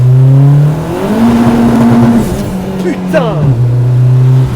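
A car engine revs hard and accelerates while driving, loud and close, its pitch climbing and dropping through gear shifts, with a person talking briefly over it.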